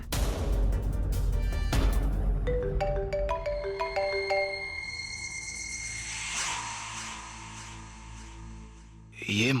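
A mobile phone in a Hindi TV drama scene plays a melodic ringtone, a loud run of bright stepped notes that follows heavy dramatic booms and swells.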